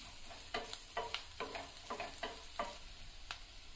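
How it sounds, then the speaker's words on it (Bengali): Chopped peas, capsicum, carrot and beans are stirred in a pan, with a series of soft scraping strokes roughly every half second over a faint, steady sizzle, close by and with no talking. "নাড়াচাড়া করে নিচ্ছি"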